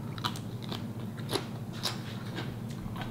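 Crisp crunching bites into lightly salted, rinsed napa cabbage, several distinct crackling bites spaced about half a second apart, close and clear over a steady low background hum.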